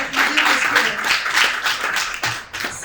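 An indoor audience at a fraternity conference in a Paris pavilion claps for Olivier Klein, mayor of Clichy-sous-Bois, a dense burst of close applause lasting a few seconds.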